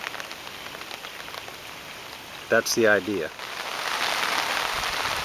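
Light rain patters steadily on the ground beside an IBC water container near a swale mound in a food forest, with a short spoken phrase in the middle.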